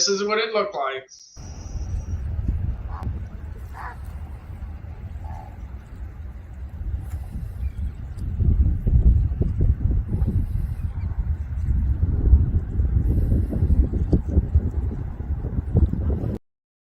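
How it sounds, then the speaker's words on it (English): Steady low wind roars across the whole stretch on a beach during a hurricane, a dull rumbling rush that swells stronger in the second half with no voices. "You could hear a low wind"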